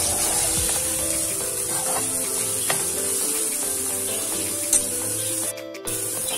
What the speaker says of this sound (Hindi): सब्जियों को इतना फ्राई करना आपने कि आधी गल जाएंगे